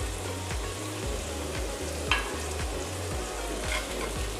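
Peas and cut capsicum fry over a medium-low flame, a constant close sizzle with regular spoon scrapes and stirring knocks repeating about every half second, no voices.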